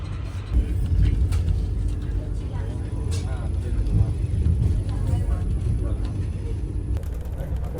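Interior of a Vande Bharat Express train on the Delhi–Bhopal run cruising at about 125 km/h, with a steady low rumble and rolling noise throughout and a brief change near the end, under a voice.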